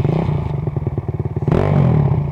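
An off-road motorcycle climbing a rut: the engine pulses in a fast, choppy rhythm, then swells into a louder sustained rev, close and gritty throughout.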